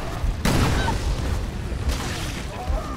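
A loud, close explosion goes off in Resident Evil: Revelations, a heavy boom with a rumbling tail, followed by a second fainter blast and lingering debris noise.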